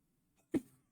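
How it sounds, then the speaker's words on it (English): One short, sudden, close burst from a person, stifled and explosive, rising out of near silence and fading quickly in a quiet room. "I'm going to sneeze."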